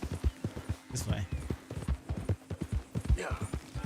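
A horse's hooves in Red Dead Redemption 2 clip-clop in a quick, uneven rhythm of sharp thuds, close and moderately loud, with a brief whinny-like sound.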